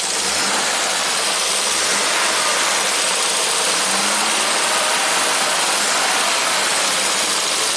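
A 1967 Triumph GT6 engine, revived after sitting parked since 1999, runs with the throttle bar pressed: a loud, constant, broadband engine roar held steady close to the microphone for the whole stretch.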